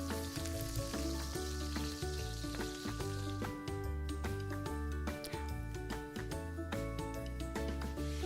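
Pork ribs for Chinese sweet and sour ribs browning in hot oil give a steady, close sizzle and crackle, running continuously beneath loud rhythmic background music.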